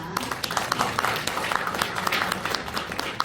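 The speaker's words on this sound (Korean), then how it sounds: "여러분 다시 한번 응원의 박수 부탁드립니다." An audience applauds in a hall right after a memorandum of understanding is signed at a foundation's launch seminar, a fairly faint, steady patter of clapping that lasts throughout.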